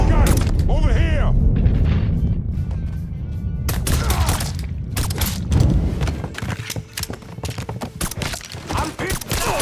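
Gunfire and explosions in the crime action game Mafia III: sharp repeated shots and heavy booms crackle close and loud over a rumbling background, with shouting voices mixed in.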